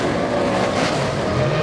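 Speedway race car engines roar together at high revs as the field takes the green flag, a dense, loud, continuous blare of mixed engines with no breaks.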